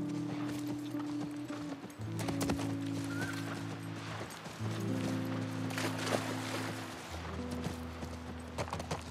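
Horse hooves clip-clop steadily on the ground in The Last of Us Part 1, a rhythmic run of fairly close hoofbeats with occasional brief pauses, heard alone without talk.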